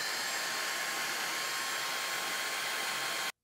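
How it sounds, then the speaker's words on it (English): Dyson V6 cordless vacuum with a HEPA filter conversion kit running at a steady high-pitched whoosh, loud and close, alone, then cutting off abruptly at the end. "Watch, it's running. It starts pulsing now because there's no air leaks"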